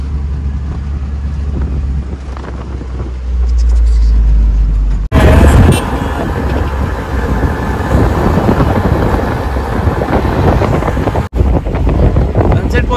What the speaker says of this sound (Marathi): ही बघा आपली रिक्षा,